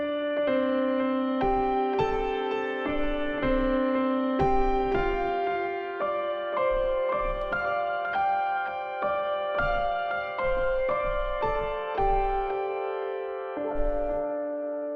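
A piano lead melody treated with ping-pong delay and big reverb rings out alone, with sustained harmonic notes in a steady phrase and low bass notes pulsing underneath for the full stretch.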